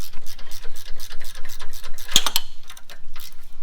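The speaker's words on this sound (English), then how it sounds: "They have a carriage bolt head, so you only need one wrench. Just loosen them up" Wrench working carriage bolts loose on a Trackchair AXIS tracked wheelchair, a rapid, evenly spaced ratcheting clicking close up, with a sharp metallic clink partway through.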